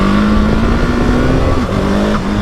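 A 2020 Husqvarna 701 SM motorcycle accelerating hard in first gear, with a loud, steady engine note that climbs gradually in pitch and a brief dip near the end, heard up close with no one talking.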